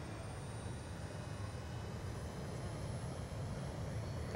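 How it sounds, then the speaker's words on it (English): A jet aircraft flies over in the video game Call of Duty Black Ops 2, a loud continuous broadband roar that holds steady throughout. "That's a jet."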